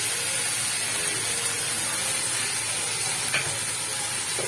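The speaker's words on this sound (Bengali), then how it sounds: "এরপর আমি এতে আদা রসুন বাটাটা মিক্স করে দেবো।" Chopped onions sizzle steadily in a hot pan as ginger-garlic paste is stirred in for chicken biryani, a close, continuous frying hiss with faint scraping and no voices.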